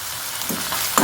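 Onions sautéing in a hot pan for a milk-based curry, a continuous close, loud sizzle with a few brief surges of crackle as they are stirred.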